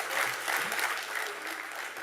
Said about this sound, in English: Can we welcome her with a round of applause?